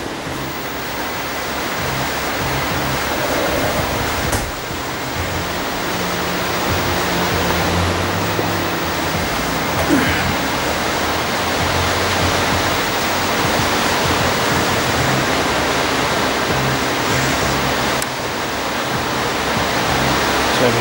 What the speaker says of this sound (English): To apologise for the rain noise